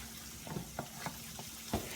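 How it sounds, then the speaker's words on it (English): Garlic cooks in a pot, crackling and sizzling in short, uneven bursts with a soft frying hiss between them. "we're gonna cook our garlic down for about a minute"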